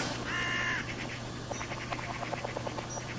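A magpie calls outdoors with a harsh chattering and rattling series of notes, moderately close, over a steady background hum and insect-like buzz.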